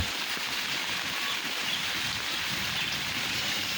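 Heavy rain pouring onto a flooded courtyard and roads around a house. An even, soft hiss of steady downpour at moderate distance, constant without breaks.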